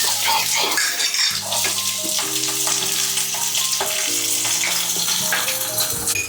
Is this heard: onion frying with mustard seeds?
yes